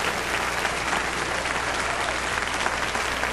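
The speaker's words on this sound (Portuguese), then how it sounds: "Aplausos para Deus agora." Sustained congregational applause fills a church service, a dense, steady wash of many hands clapping at even loudness throughout with no break.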